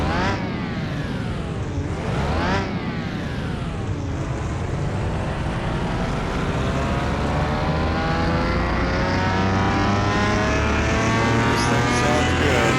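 A race-built Lamborghini engine in Car Mechanic Simulator 2021 roars loud and continuous, revving up and down twice before climbing in a long sustained high-pitched wail.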